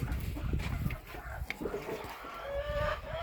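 A hen clucks repeatedly just after laying an egg, with soft, uneven calls over farmyard background noise at moderate distance.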